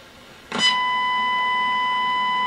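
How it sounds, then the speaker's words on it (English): A steady 1 kHz modulation tone from an RCA Rider Chanalyst tuned to 1 MHz switches on abruptly with a brief click and then holds as a loud, continuous pure whistle with faint harmonics. "what you're hearing is the 1 kilohertz modulation"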